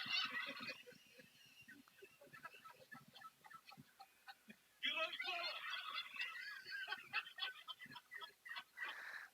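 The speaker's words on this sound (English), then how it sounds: "Those turkeys there" Several turkeys gobble and cluck nearby in repeated overlapping bursts, the calls growing louder and denser partway through, with no people talking.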